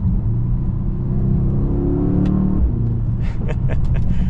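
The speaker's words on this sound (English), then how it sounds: "A little pop on the exhaust, and between gear changes" A 2025 Mercedes-Benz GLS63 AMG's deep engine roar climbs in pitch, drops at a gear change, then several sharp exhaust pops and crackles burst out in quick succession.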